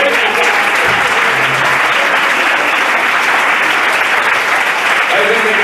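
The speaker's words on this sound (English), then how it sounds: "Give Dave a nice big round of applause." A comedy club audience breaks into steady, dense applause that holds evenly at full volume throughout, with a brief voice surfacing near the end.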